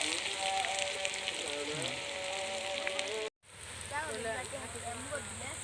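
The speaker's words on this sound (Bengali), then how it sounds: "আর এখানে এখন আমি পেঁয়াজ বেরেস্তা করে নেব।" Onions sizzling in hot oil for a chicken kosha, a steady crackling fry like rain, with a voice talking over it before a short break.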